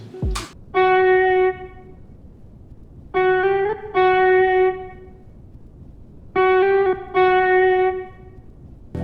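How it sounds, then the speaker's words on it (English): A recorded guitar melody chopped up so it sounds like a sample. Processed guitar notes come in abrupt, clipped bursts separated by short silent gaps, in a repeating stop-start pattern. "so it sounds like a sample. And the chopped up version sounds like this."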